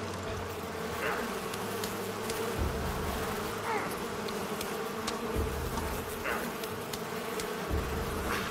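Bees buzzing in the video game Far Cry 5, a steady, close insect drone with a low wavering hum and a few brief higher swells, no speech.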